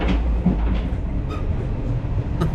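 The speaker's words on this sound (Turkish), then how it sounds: "Baksana bayağı trenin dibi ya" A train rolls past from right beside the tracks, a loud steady rumble with faint clacking of wheels and no talk.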